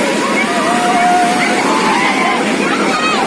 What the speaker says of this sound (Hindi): एक एक लहर काफ़ी बड़ा बड़ा आता है और जिसके वजह से आप लोग देख सकते होंगे कि जो पानी होता है वो पानी काफ़ी दूर तक आ जाता है।